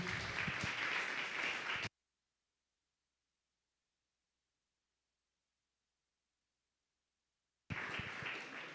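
A church congregation applauds as an offering to God, a dense wash of many hands clapping together, broken by a long stretch of dead silence before the clapping resumes.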